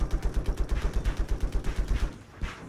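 Rapid automatic gunfire in Battlefield 4 rattles in a fast, steady burst, then breaks off into a couple of scattered shots.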